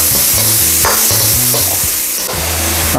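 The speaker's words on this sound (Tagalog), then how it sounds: "lutuin lang po natin ang ating ground pork. Cook lang po natin siya hanggang maging brownie" Ground pork fries in a pan with a loud, dense sizzle, while low tonal hum and stirring bumps run underneath throughout; no voices.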